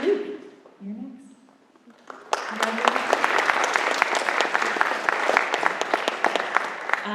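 An audience at a spring showcase of a school string and orchestra program breaks into applause after a couple of seconds of quiet, the clapping dense, steady and sustained to the end.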